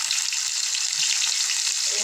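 Onion paste dropped into hot oil while cooking fish, giving a steady bright sizzle and crackle that holds close and even throughout, with faint clinks underneath.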